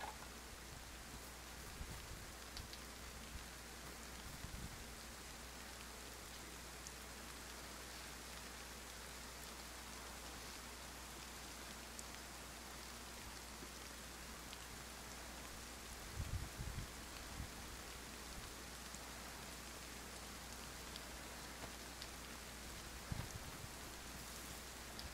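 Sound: rain in the video game DayZ

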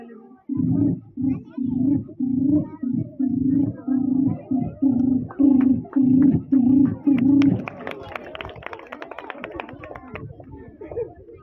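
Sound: child imitating pigeons cooing

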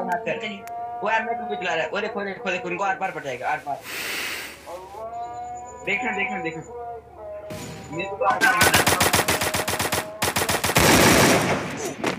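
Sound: gunfire in a video game shooter

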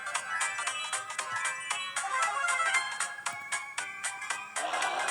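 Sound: phone message notification sound

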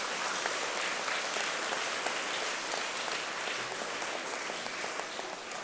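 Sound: round of applause pledging traffic safety

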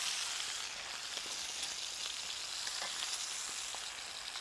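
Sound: steaks frying in a pan

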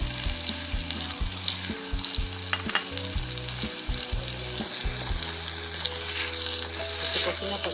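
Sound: plantain frying in pan with chipotle chiles

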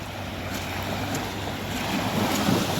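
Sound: calm sea with small waves

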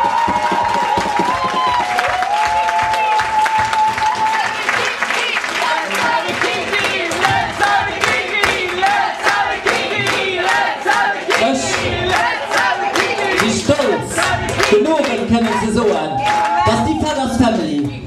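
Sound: audience applause and cheering

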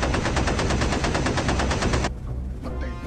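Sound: machine gun fire sound effect from B-17 bomber gunners

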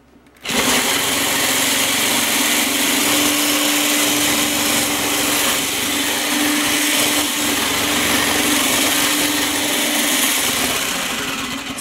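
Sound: electric mixer whipping cream to make homemade butter

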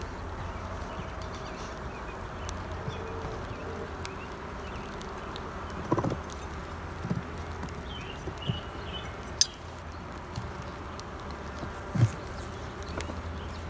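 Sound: honey bees buzzing

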